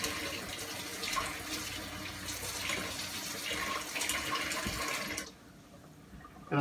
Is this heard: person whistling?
no